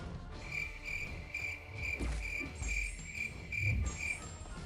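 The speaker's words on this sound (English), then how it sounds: "those were crickets" Crickets chirping in steady, evenly spaced pulses that carry throughout, with low thuds and rustling noises underneath.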